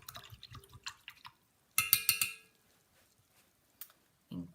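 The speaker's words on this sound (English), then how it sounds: "Rinse out my brush" A paintbrush is rinsed in a small container of water, giving faint scattered drips and sloshing splashes with a short burst of clinking stirring, quiet and close.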